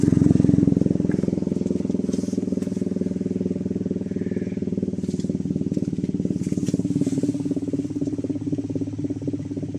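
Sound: UK Mez H1/B2 siren rotor spinning on new bearings

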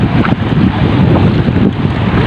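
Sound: strong wind

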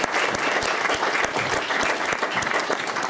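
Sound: audience applause in a hall

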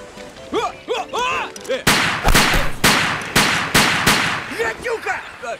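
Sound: gunshots fired

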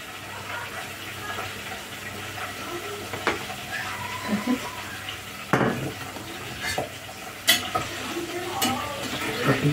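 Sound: preparing a sauce in the kitchen

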